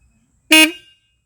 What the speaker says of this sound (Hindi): इसका हॉर्न का जो साउंड है